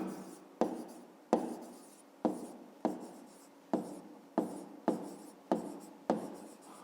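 A pen writes numbers in a notebook, about ten short strokes in a steady rhythm, each a crisp scratch that fades quickly, heard close and alone.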